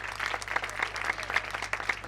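Church congregation breaking into loud, sustained applause, dense clapping filling the whole stretch with a few sharper claps standing out.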